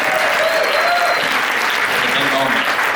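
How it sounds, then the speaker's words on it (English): Loud, steady applause from an audience at a Christina Grimmie Foundation East Coast event, honoring a girl named Avery. Dense clapping fills the scene throughout with some crowd noise and brief voices mixed in. "Everybody give Avery a big round of applause."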